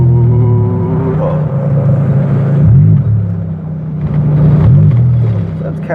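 A Pontiac Grand Prix engine hums steadily while driving, rising into a low throaty rev twice, loud and close, with a voice talking briefly over it.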